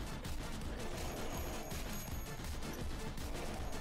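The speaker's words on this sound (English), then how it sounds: "Check this thing out. It's like 4 guns shooting at once." Several guns firing at once in the flash game Zombies Ate My Motherland, a dense, continuous fusillade of rapid shots and explosions with no pauses.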